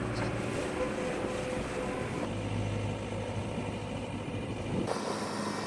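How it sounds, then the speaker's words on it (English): Strong gusting wind buffets the microphone outdoors while a steel entry gate is hung on a post braced with earth anchors and cable, a steady loud roar with surging, shifting gusts throughout. "The gusting wind made hanging this gate quite a challenge."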